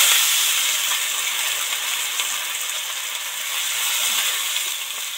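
Water poured into fried masala for paneer butter masala sets off a loud, steady, bright sizzling hiss that fades slightly then swells again, with no talking.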